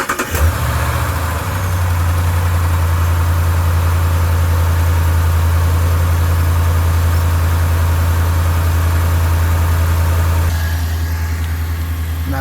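A Hemi V8 truck engine cranks over and settles into a steady, loud idle just after an AMSOIL oil change, a deep even rumble heard up close for several seconds.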